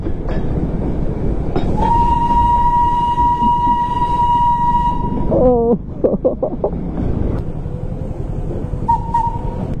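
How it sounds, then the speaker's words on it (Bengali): A Darjeeling toy train whistle blows one long steady note for several seconds over rumbling wheels, then wheels squeal and a brief second whistle sounds near the end. "তার মধ্যে একটা হচ্ছে দার্জিলিং এর টয় ট্রেন"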